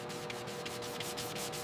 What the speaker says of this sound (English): Hand sanding complements machine sanding, especially along curves and detailed edges.